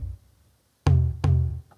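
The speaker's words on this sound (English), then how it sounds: "But the regular tom would sound like this." Regular tom drum from a music production session in Ableton, struck three times alone with resonant, decaying hits, the last cut short.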